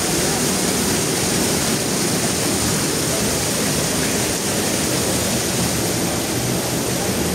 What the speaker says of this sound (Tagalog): Ito tumatagos yung tubig.